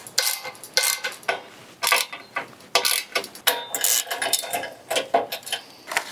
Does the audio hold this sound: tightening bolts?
yes